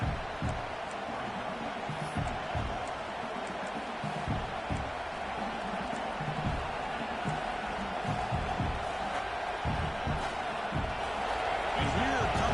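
Dense, steady roar of a large football stadium crowd throughout, with a commentator talking over it continuously.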